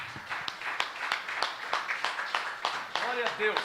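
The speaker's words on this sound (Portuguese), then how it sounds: "Mais uma salva de palmas ao Senhor Jesus" A church congregation clapping in rhythmic unison at a service, steady sharp claps about three per second, with a voice speaking over them near the end.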